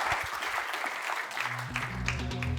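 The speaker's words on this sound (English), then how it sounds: "Folks, let's give a round of applause." An audience at a Sydney keynote event applauds a shared use case, a dense, fairly soft wash of clapping with a low tonal hum and some background sounds entering midway.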